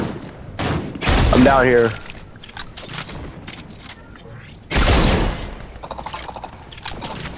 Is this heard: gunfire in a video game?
yes